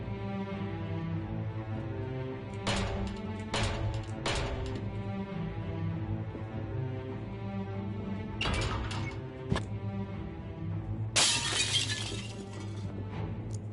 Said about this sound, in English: With a crash, the mirror shatters and sprays the room with glass.